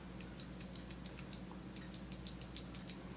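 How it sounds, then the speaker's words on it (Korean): Typing on a Xenics Optical V2 waterproof mechanical gaming keyboard with clicky blue optical switches gives quick, crisp, faint clicks in short irregular bursts, with no voices. "청색의 경우는 청축이 소리가 짝깍짝깍짝깍 소리가 나는 키보드죠."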